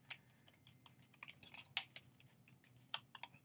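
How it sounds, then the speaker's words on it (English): Scissors snip through index cards in a quiet room, a quick series of sharp, close, crisp cuts in an uneven rhythm with no voices. "I'm cutting way down in my scissors"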